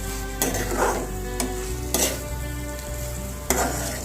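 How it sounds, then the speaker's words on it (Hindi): Chilli basa fish coated in cornflour is stirred in a hot pan, with a steady sizzle of frying beneath four or five distinct scraping strokes of the spoon spaced about a second apart, close and fairly loud. "अभी मैंने जो कॉर्नफ्लोर लिया था उसको मैं डाल दूंगी और उसको भी एक अच्छा सा मिक्स दे दूंगी"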